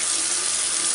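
Tap water running steadily into a sink as an e.l.f. small stipple makeup brush is wetted during cleaning, a close, loud, continuous hiss of flowing water with no talking.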